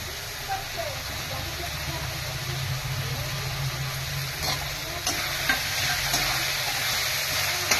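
Tomatoes and capsicum stir-fried with spices in a wok, a steady broadband sizzle with scraping stir strokes and occasional clicks of the utensil against the pan, low hum underneath.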